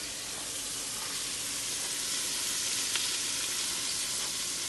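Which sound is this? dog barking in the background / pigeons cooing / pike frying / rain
pike frying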